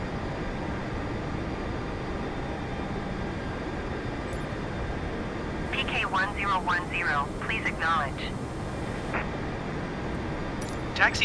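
A Citilink airliner taxis to general aviation parking in Microsoft Flight Simulator 2020 after a flight from Soekarno-Hatta to Bandung. A steady, even engine drone runs throughout, and a voice cuts in briefly midway.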